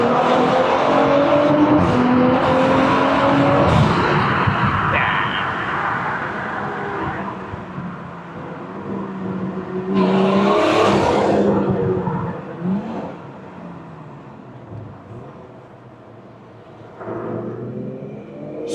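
A Stage 2 tuned BMW M340i LCI engine accelerating hard on an open road, a loud sustained rising rev that repeatedly climbs through the gears, with strong engine drone and brief lulls between pulls, heard from inside the car.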